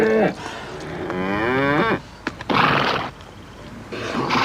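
Cattle on a mountain farm moo close by in several long, drawn-out calls with rising and falling pitch and short pauses between them.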